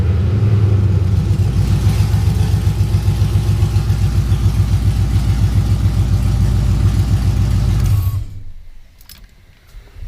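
An LS-swapped 1988 Chevrolet Suburban runs on open headers, with a loud, deep, pulsing idle and a raspy exhaust throb held steadily close by. The engine then shuts off abruptly, leaving a faint quiet background.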